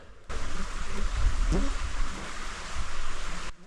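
Steady broadband rush of flowing water, like a nearby stream in the Alaskan woods, continuous for a few seconds with a faint low rumble underneath.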